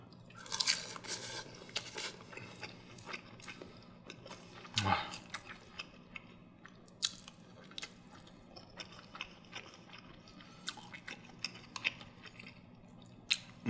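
Egg custard and dried seaweed are chewed close to the mic: quiet, wet, squishy chewing with small crunches and sticky mouth sounds in an otherwise hushed room.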